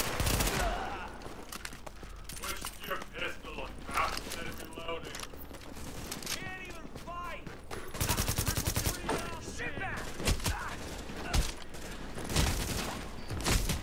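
Repeated gunfire crackles through a firefight in Tom Clancy's The Division, with bursts of rapid automatic shots and scattered single cracks at moderate volume, sometimes louder, over a steady low background.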